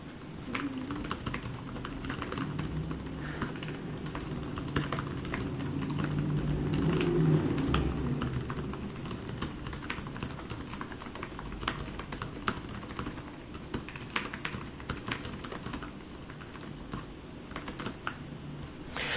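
Steady tapping of Asus NovaGo laptop keys runs throughout, quiet and close, with irregular clicks and no voices.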